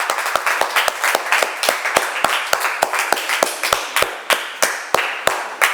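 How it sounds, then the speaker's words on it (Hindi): A game-show studio audience claps in steady unison, loud sharp claps at an even brisk rhythm for several seconds, with no talk over them. "जबरदस्त तालियां एक बार, बहुत बढ़िया।"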